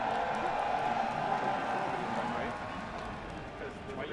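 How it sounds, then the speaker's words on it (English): A crowd cheering at an esports stage, a broad, steady roar of many voices that eases off slightly toward the end, with a commentator talking over it. "There's the crowd."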